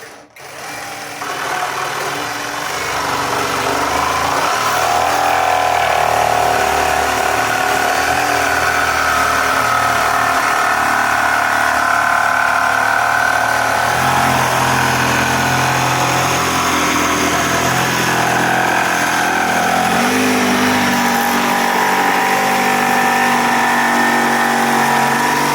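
Parkside Performance PPSTDA 20-Li A1 top handle cordless jigsaw cutting steadily through a workpiece, a loud continuous motor buzz that holds for the whole stretch with slight shifts in pitch as the blade works.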